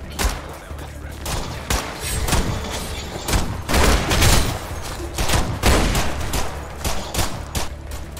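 Rapid gunfire in the video game Decaying Winter, with bursts of loud repeated shots and booming blasts that keep coming with short gaps between them, close and dominant.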